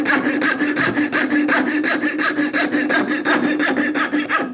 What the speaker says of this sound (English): You can use a coping saw like I've got here.